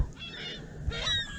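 A stuck seagull being rescued by anglers out fishing lets out harsh, honking squawks in two close, loud bursts, with wind and handling noise underneath.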